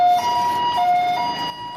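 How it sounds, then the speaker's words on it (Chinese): An ambulance siren wails close by in a street, its steady rising and falling electronic tones loud and clear over faint traffic. "救护车赶紧出动，赶到事故所在。"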